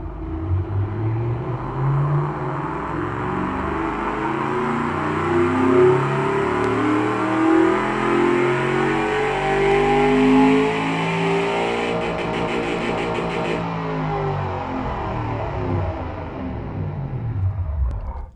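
An AC Cobra 427 Cammer V8 tuned to about 700 hp with straight pipes, in the Automation game, revs loudly and continuously, its deep rumbling engine note rising and falling across the whole stretch.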